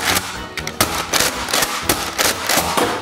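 Rapid foam-dart shots from a Nerf blaster fired at targets in a kids' shooting challenge, a quick string of sharp snapping pops spaced irregularly across the clip, close and loud.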